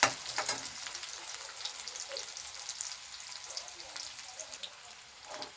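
Onion sautés in a pan until golden brown for a dried prawn dish, with a soft crackling sizzle and occasional light stirring scrapes, loudest at the start and fading slightly.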